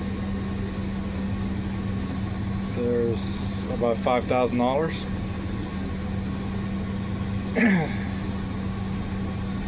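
A steady low tractor engine drone runs throughout during field planting, the tractor needing a new steering valve, with someone speaking briefly over it.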